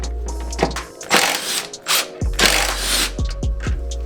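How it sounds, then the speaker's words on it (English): A socket ratchet clicks close up while loosening the two 10mm nuts on the power steering reservoir of a Mitsubishi Evo 4G63, in quick bursts of ratcheting with short pauses and a few metallic knocks. "Next we'll remove the 2 10mm nuts holding on our power steering reservoir."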